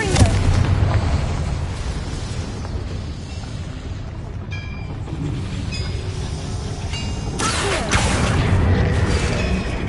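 The Confringo fire spell goes off in Hogwarts Legacy with a loud, rumbling explosive blast that fills the whole stretch, swelling again near the end, dense and continuous.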